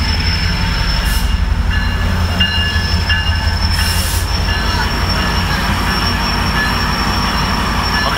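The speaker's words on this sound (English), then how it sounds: "Oh, it's an Amtrak Pacific Surfliner." An Amtrak Pacific Surfliner led by F59PHI locomotive 459 rolls past close by at Fullerton, a loud continuous rumble of wheels with high squealing tones and brief bright screeches over the steady roar.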